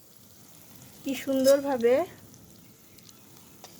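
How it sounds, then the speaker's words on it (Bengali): Pumpkin flowers dipped in gram flour batter fry in hot oil with a quiet, steady sizzle, briefly covered by a short burst of speech before the frying carries on alone. "এই গুলানো বেসমের ভিতরে চুবাই নিয়ে এই যে তেলের ভিতর ছেড়ে দেওয়া হয়েছে"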